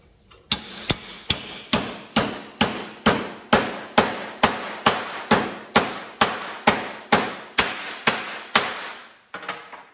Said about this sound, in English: Let me grab a hammer.